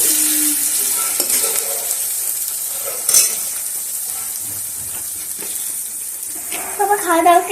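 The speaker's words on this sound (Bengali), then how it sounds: "ভাজা চলছে।" Jackfruit, onion and garlic fry in a pan for prawn curry, giving a steady bright sizzle with occasional stirring scrapes, while a voice talks briefly near the end.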